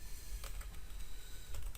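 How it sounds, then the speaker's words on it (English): Quick bursts of typing on a computer keyboard, several close, crisp keystrokes clustered in short runs over a steady background hum. "Here, let me type it in."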